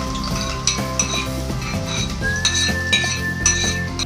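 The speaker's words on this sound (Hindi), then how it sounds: "हम प्याज को अच्छे से फ्राई कर लेंगे ताकि ये ब्राउन हो जाए" Finely chopped onions fry in half a cup of hot oil over medium-low heat, a steady sizzle close by with occasional clinks of a spoon stirring against the pan.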